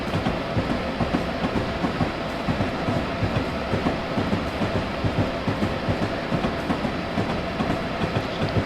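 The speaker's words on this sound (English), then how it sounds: "It's really pretty steep, so I'm probably going to have to add power." Train in Train Simulator 2015 climbing a steep 1.2% grade under added power: a steady, loud rumbling drone with continuous rhythmic wheel clatter throughout, no voices.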